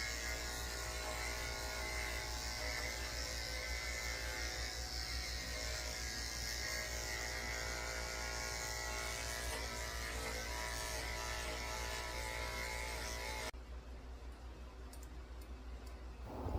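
Electric dog clippers with a 7 blade buzz steadily while trimming a Shih tzu's legs, a close, continuous drone that cuts off near the end, leaving quiet room tone.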